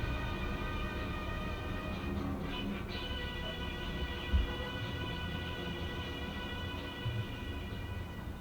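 A train in Sri Lanka rumbles steadily nearby, with a continuous loud rolling drone and a couple of brief clanks from the rails. No one speaks.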